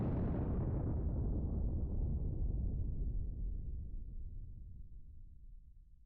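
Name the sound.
Star Destroyer gun crews firing, Star Wars: Ascendancy video game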